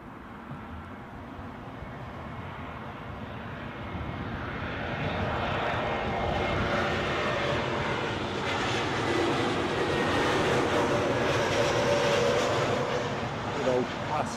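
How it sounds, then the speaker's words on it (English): Lufthansa Airbus A320neo arriving from Frankfurt and landing at London Heathrow: a steady, broad jet engine roar that swells and holds loud across the whole stretch, heard from a spotting position with some background noise. "So next plane in, a Lufthansa A320 Neo from Frankfurt."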